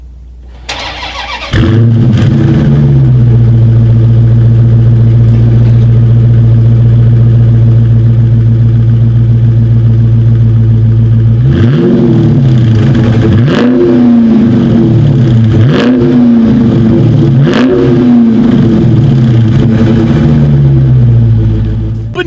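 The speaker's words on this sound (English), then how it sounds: "As always, here is that exhaust clip." A 2019 Dodge Charger Scat Pack engine starts with a sharp crank and settles into a loud, steady idle, then several throaty exhaust revs rise and fall in quick succession.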